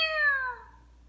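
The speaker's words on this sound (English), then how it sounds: "Meow!" A single cat meows once, a clear, close, falling cry that fades within about a second, with nothing else heard.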